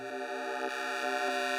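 A Fred's Lab Manatee synthesizer plays its Monster ADM patch, a sustained bright, buzzy tone rich in harmonics, with slight pulsing accents across a short burst.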